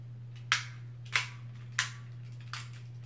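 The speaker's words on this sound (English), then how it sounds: "This is gonna be another hard hitting battle." Beyblade Burst GT tops clashing in a hard-hitting tournament battle: four sharp, separate metallic impacts spaced about half a second apart, over a steady low hum.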